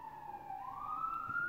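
Emergency siren sweeping and rising in pitch as it passes on a street, loud and continuous for about a second and a half with no talk over it.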